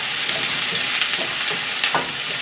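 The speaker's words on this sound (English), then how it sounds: "We're gonna slightly caramelize the onion. Give them a quick stir." Onions sizzle steadily in a hot frying pan while being stirred for an omelette with Chinese sausage, with a broad hiss under a few soft scraping strokes, close and alone.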